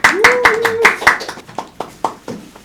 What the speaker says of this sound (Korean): 여러분들 큰 박수로 모시겠습니다